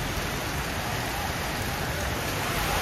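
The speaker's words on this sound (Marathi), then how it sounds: "पाऊस खूप पडतोय गावी" Heavy rain pours down in a village, a dense, loud, even hiss of drops on surfaces that holds constant throughout, with no voices.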